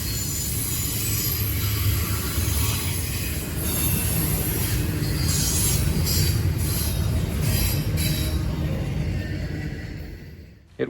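Freight train I-195 rolls steadily past Point of Rocks, Maryland, with a continuous loud rumble of wagons, wheel squeal and rail clatter that holds for the whole stretch, then fades abruptly at the end.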